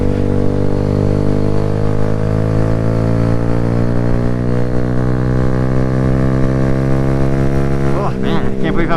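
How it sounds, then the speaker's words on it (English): A Kawasaki Z125 stunt motorcycle fitted with a cheap Temu aftermarket muffler runs at a steady, loud, close engine drone that rises slightly in pitch, then wavers and revs briefly at the end. "I actually way prefer the sound of the cheap Temu muffler than the SC Projects muffler"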